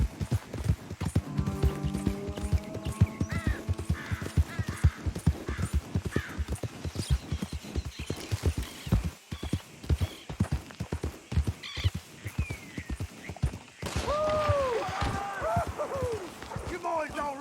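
A horse gallops with rapid, rhythmic clip-clop hoofbeats in Red Dead Redemption 2 and whinnies now and then, while voices talk over the running hooves.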